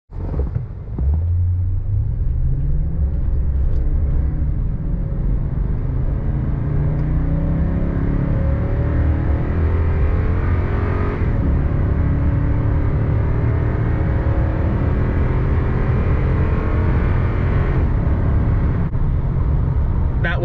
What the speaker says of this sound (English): That wasn't even floored, so it has pretty good acceleration and it sounds amazing.